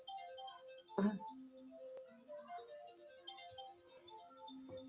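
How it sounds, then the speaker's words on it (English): Mobile phone ringtone plays a faint, repeating melodic pattern of short electronic tones, with a brief louder knock near the start and no talk over it. "Sorry, that's my phone."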